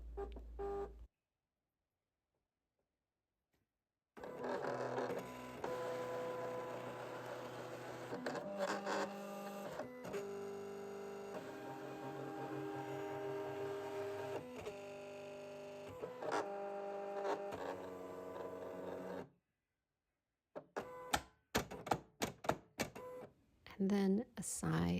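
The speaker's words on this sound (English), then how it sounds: "Don't be mistaken, this cutter is loud, but when it's actually doing what it's supposed to be doing, it's music to my ears." A Silhouette or Cricut cutting machine slices sticker sheets, giving a loud, steady mechanical whir with whining motor tones and shifting pitches for about fifteen seconds after a quiet start, then brief clicks and clatter as it stops.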